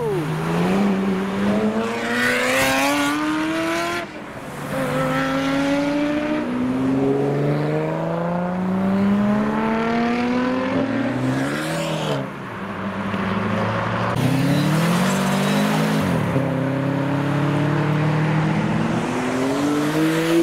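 A Volkswagen Beetle RSI pulls away from a car show, its engine revving loudly and climbing in pitch through several hard accelerations, close by and sustained.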